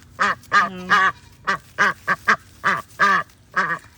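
Duck in a bird hospital ward quacking in a series of about ten loud, close, nasal calls in irregular bursts, with a single brief spoken word among them.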